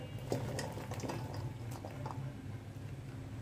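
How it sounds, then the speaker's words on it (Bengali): Mixed vegetables tipped into a pot of washed lentils with small chopped potatoes, giving a soft continuous bubbling, liquid patter and a few dull knocks, fairly close, no talking. "তারপরে দিয়ে দিচ্ছি এখানে মিক্স সবজিগুলো ঢেলে।"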